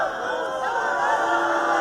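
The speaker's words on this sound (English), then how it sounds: "And we're going to get some boos from the crowd." Crowd at a high school boys varsity soccer senior night, a sustained loud mass of voices jeering and shouting from the stands, steady throughout without a break.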